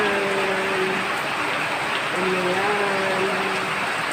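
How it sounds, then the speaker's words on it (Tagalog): Steady rain falls outside a home, a dense continuous hiss of drops on surfaces filling the scene, with a voice speaking over it at times. "Umulan na talaga guys."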